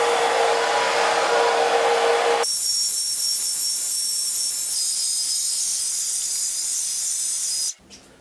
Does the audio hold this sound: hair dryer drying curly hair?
yes